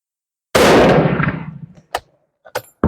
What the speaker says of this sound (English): I want to shoot one more and see where my group is.